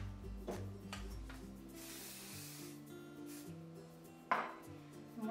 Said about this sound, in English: Put a little hairspray.